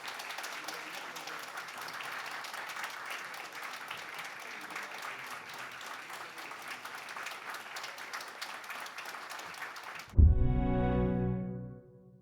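Audience applause fills a hall at an alumni association president's inauguration ceremony, steady and sustained for about ten seconds before cutting abruptly to a louder, different sound at the end.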